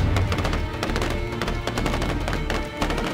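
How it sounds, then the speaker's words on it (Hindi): Machine gun fire from ISIS fighters crackles in a dense, rapid burst of overlapping shots, loud and sustained across the whole short stretch. "उस शय को देखते ही बगदादी के आतंकी ताबड़तोड़ फायरिंग करना शुरू कर देते हैं"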